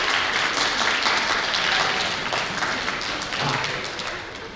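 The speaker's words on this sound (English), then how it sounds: "Give them a round of applause." Audience clapping at a school spring band concert, a dense round of applause that holds steady and then slowly tapers toward the end.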